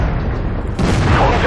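Tank cannon shot in World of Tanks, a loud booming blast striking partway through a brief rumbling moment, with a voice speaking.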